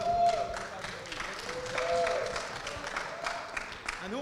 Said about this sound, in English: Big round of applause for Mr. Patrick.